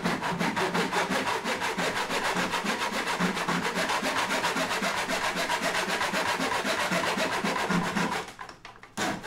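Handsaw cutting through a thick stack of plywood sheets during a dance pad build, steady rapid back-and-forth rasping strokes close up and loud, continuous until a brief pause near the end.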